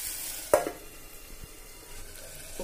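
Onions and tomatoes fry in a pan for paneer burji, giving a soft, steady sizzle. One brief clatter sounds near the start, and no one speaks.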